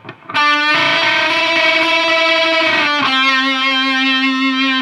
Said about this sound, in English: Put a little bend on the end of the string there, adds a little bit of flavor.